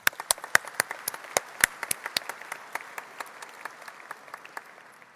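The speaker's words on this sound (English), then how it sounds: "let's give them a round of applause again" Scattered hand claps from a conference audience at ICML, a sparse round of applause that starts fairly crisp and thins out over about five seconds.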